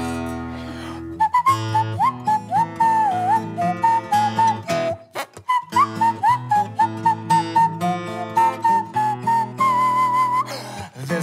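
A single person whistles a lively, melodic instrumental verse over a strummed and plucked acoustic musical accompaniment, the tune bright and continuous with quick note changes.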